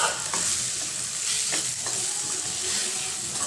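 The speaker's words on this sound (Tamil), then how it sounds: "இப்போ நல்லா இந்த மாதிரி மிக்ஸ் பண்ணி வச்சுக்கலாம்." Spinach and egg mixture is stirred and turned in a hot pan, with a steady sizzle of frying and scraping strokes close by and no voices.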